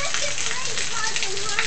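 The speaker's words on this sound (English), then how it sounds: "Rain right here." Steady rain hisses and patters outdoors for a moment beneath a storm, a dense close wash with no break.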